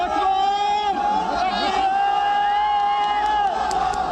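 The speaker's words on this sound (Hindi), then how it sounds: "लोग खुशी की वजह से तालियां बजाने लगते हैं" A crowd cheers and shouts with joy at an earthquake rescue site as a child is pulled from rubble, a steady dense roar of voices and whoops without pause.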